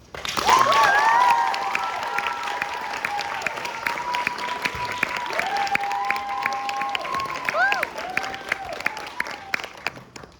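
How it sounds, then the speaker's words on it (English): Audience applause after a school reading event, steady clapping from a crowd with a bright ringing tone and melodic pitch lines drifting over it throughout. "Please give a round of applause to all 28 of tonight's readers"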